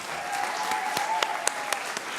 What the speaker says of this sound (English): let's have some applause please, for Carol Edwards, NHS Grampian.